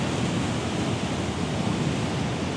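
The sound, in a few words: sea waves at Rumbling Kern coast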